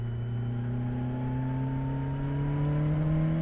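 A 2018 Kawasaki Z900 motorcycle engine holds a steady, droning note whose pitch climbs slowly and smoothly as the revs build, heard continuously and fairly close with no voices.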